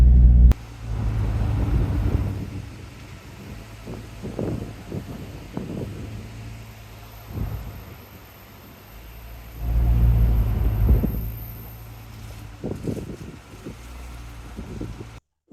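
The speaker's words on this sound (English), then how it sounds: "We are driving on the dam." A Jeep drives across a dam, its low engine rumble and tire noise steady throughout with wind buffeting the microphone, swelling louder in a few stretches and easing between them, with no voices.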